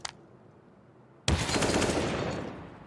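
Gunfire in a competitive video game match with a bomb objective: a brief shot at the start, then a sudden loud sustained burst of rapid automatic fire that slowly tapers off, with no talking.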